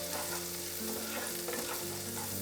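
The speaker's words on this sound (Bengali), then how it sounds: "রসুনটাকে একটু এইভাবে ভেজে নিতে হবে, একটু গন্ধ বেরোবে।" Garlic fries in butter in a pan, giving a dense, even sizzle that carries on close and unbroken for a couple of seconds with no voices.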